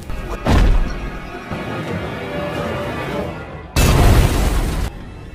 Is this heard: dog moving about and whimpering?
no